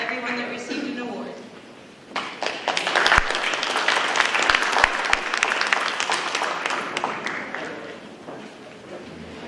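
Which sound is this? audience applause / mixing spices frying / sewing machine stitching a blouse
audience applause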